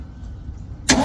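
An old Ford F600 dump truck engine fed gas down the carburetor turns over and catches near the end, a low cranking rumble that suddenly bursts into a loud, close roar.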